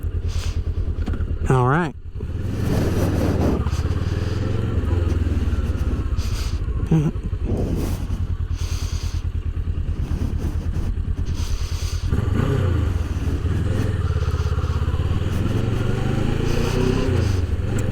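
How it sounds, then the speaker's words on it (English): A Kawasaki Versys 650 motorcycle, already warmed up, runs with a steady low engine drone throughout, close and continuous beneath someone talking. "This is the Kawasaki Versys 650."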